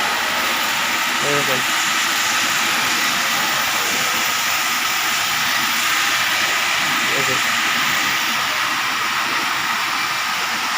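Large motors and machinery run at a factory construction site in Kuala Lumpur, Malaysia, giving a loud, steady broadband rumble and hiss that never lets up, with voices faintly mixed in.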